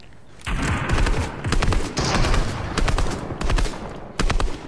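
Fortnite gunfire: loud, close bursts of automatic fire in about six clusters separated by brief gaps, each burst a quick rattling string of shots.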